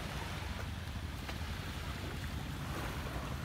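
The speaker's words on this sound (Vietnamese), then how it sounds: "Chúng ta có thể cảm nhận được cái tiếng sóng ở đây." Ocean waves wash steadily at dawn on Con Dao island, Vietnam, as a constant broad surf roar with light wind, and no voices.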